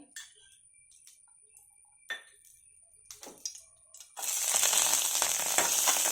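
Betel leaves dropped into hot oil in a pan for chutney, a few faint ticks and taps at first, then a sudden loud, steady sizzle that crackles on without pause.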